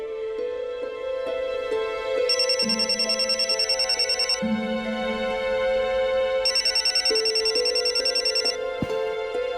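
A telephone ringtone plays loudly and close in an indoor scene, with a repeating electronic melody and bursts of rapid trilling bell tones, accompanied by background music.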